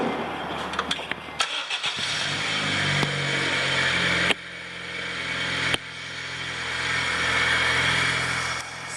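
2008 Honda Civic 1.8 engine cranking with the key and catching, a short stuttering crank that quickly settles into a loud steady idle with a few sharp clicks, close by.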